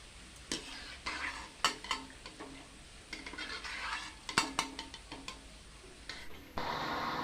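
Sweet palm-fruit fritters fry in oil over a low gas flame. A quiet bubbling runs under irregular clinks and scrapes of a metal ladle against the pan, and a louder hiss swells at the end.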